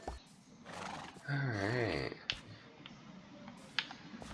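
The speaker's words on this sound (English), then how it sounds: "Some beautiful horses." Minecraft horses whinny inside the video game, a drawn-out wavering neigh filling the middle of the clip amid soft game ambience and a few faint clicks.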